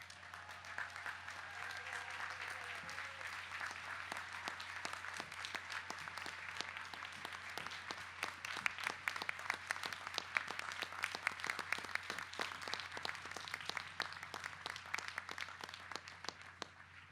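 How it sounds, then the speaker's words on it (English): At a college commencement, a large audience rises and applauds the faculty, a long, even wash of clapping heard at a distance in a big space, swelling slightly midway and continuing steadily for over fifteen seconds. "please rise and give them another round of applause"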